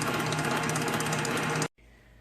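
An electric mixer whisks Hershey bar cake batter in a bowl, giving a loud, steady whirring hum for about a second and a half before cutting off abruptly into near silence.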